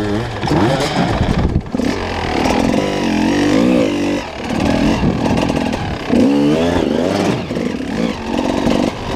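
A motorcycle engine revs hard and close, a loud buzzing drone rising and falling in repeated surges with brief dips between, and faint voices in the background.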